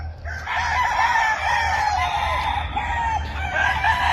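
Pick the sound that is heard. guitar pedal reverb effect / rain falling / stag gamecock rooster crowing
stag gamecock rooster crowing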